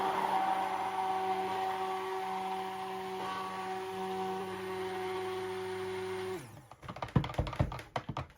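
A stick blender whirs steadily as it mixes pumpkin into cold process soap batter, a loud continuous motor drone for several seconds that cuts off, followed by scattered knocks and handling clatter.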